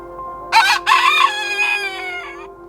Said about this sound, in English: we have demonized the rooster crow compared to so many other sounds